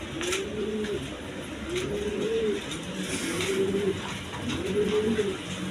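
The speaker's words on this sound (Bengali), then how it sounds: "এগুলো অনেক ধরনের কবুতর আছে" Several kinds of pigeons kept together, cooing in repeated rolling phrases about once a second, close and clear over a steady background hum with faint chirps.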